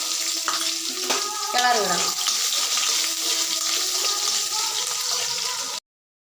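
Chopped shallots fry in a pan while being stirred, giving a constant close hiss of sizzling oil with intermittent scraping and clatter from the stirring, before an abrupt cut to silence near the end.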